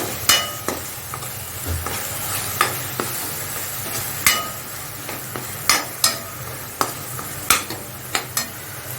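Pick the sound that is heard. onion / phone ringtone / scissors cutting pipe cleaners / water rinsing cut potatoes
onion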